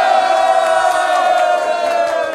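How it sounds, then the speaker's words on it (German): A concert crowd roars and cheers loudly for a special guest arriving on stage, a dense wall of shouting and whooping with a sustained tonal cry riding over it, close and continuous. "Macht einmal alle einen fetten Applaus und Lärm für unseren Bruder"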